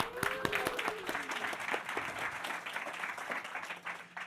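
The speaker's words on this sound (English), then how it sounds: "Big round of applause." Audience applause at a startup accelerator demo day, a burst of clapping from a seated crowd that carries steadily for a few seconds, with some brief voice and tonal sounds near the start.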